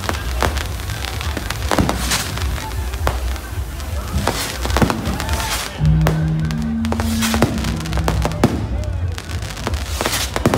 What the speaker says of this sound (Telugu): టపాకాయలు ఆపాలి.